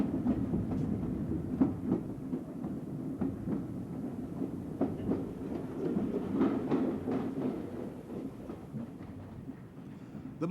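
A passenger train runs on rails through southern Europe, a low rumbling roll with faint rhythmic clicks of wheels over joints, steady and moderately distant, no voices.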